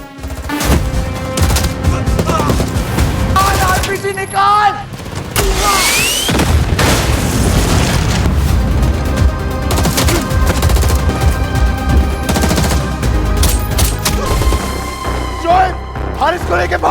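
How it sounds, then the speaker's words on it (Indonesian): A heavy film shootout with dense, rapid gunfire, bursts and booms that stay loud and continuous. Music and a voice run under the shots. "Tak pelak terjadi baku tembak hebat di sana."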